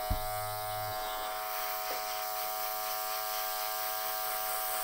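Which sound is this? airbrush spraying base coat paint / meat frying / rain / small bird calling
airbrush spraying base coat paint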